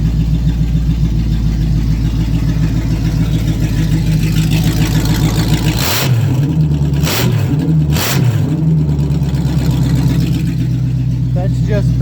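A Firebird's 350 V8 runs with no exhaust fitted, a loud, raw rumbling idle that jumps into a couple of sharp revs near the middle before settling back to a steady drone.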